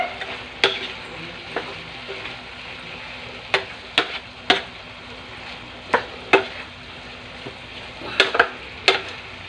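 Vegetables, tofu and a breading-mix slurry stirred in a sizzling pan: a steady fry hiss with sharp utensil clinks against the pan at irregular intervals, close by and without talk.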